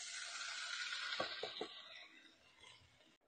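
Mixed vegetables sauté in a hot pan with a bright, steady sizzle, broken midway by a few quick stirring scrapes, then easing off and stopping abruptly.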